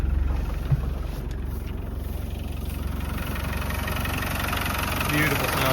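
A 1997 Land Rover Defender 90 Wolf with a 300Tdi diesel engine idles steadily after a cold start, a close, even rumble with a knocking diesel chatter and slight vibration throughout.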